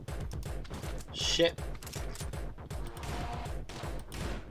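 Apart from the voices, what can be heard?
gunshots in the video game Angry Foot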